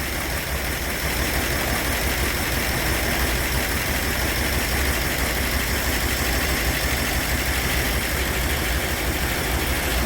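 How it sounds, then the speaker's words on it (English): A 1960 Ford Thunderbird's 352ci V8 idles steadily after its first startup, giving a loud, close and continuous engine rumble with no voices over it. "Engine started up with no problems at all."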